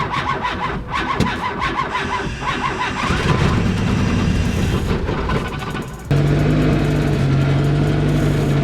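A turbocharged Mazda Miata engine cranks and catches, then settles into a loud, steady close-up idle with a constant hum.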